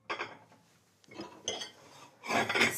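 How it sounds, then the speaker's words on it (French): Dishes and cutlery clinking and clattering as a dishwasher is unloaded in a home kitchen, a few separate bursts of clinks and scrapes, close and fairly quiet. "comme vider le lave-vaisselle"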